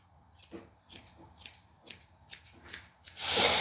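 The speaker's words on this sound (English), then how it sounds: "Now these thinners are more aggressive than the thinners I'm going to show you" Thinning shears trimming the face fur of a Yorkie, a series of about eight crisp snips at an even pace, close and fairly quiet, ending in a louder brushing rustle.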